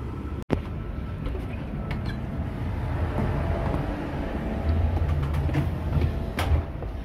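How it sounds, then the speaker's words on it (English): Steady low rumble and rattle of a moving train carriage, continuous and fairly loud, with a sharp clunk near the start. "I'm just walking back through the train."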